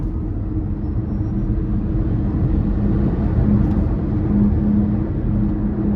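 A 2021 Mustang Mach-E GT electric car pulls away hard from inside the cabin, a steady low road rumble and faint motor whir holding constant with a slight rise partway through.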